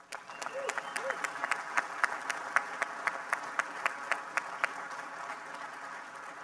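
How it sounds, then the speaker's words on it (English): A seated audience applauds an award presentation at an Air Force Association event. The steady, moderately quiet applause has crisp individual claps standing out in an even rhythm over a soft crowd wash. "And you can clap again."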